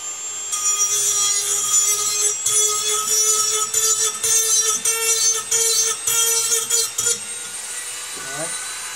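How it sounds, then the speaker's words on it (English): A Dremel rotary tool grinds along the cut edge of copper pipe to deburr it, giving a steady high-pitched whine with a rasping, scraping texture for about seven seconds before cutting out, close and loud. "Take our Dremel tool."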